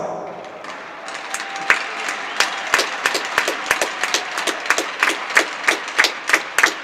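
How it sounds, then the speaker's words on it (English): At a junior hockey game, scattered clapping builds into a rhythmic, rapid series of sharp claps over a background murmur of a large crowd in a reverberant rink. "let's give them all a round of applause"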